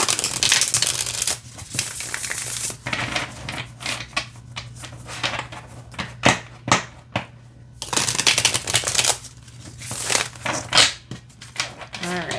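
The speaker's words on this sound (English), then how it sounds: "Let's shuffle this way." Repeated close tarot card shuffling, busy papery riffles and flicks in bursts with brief pauses, over a faint low hum.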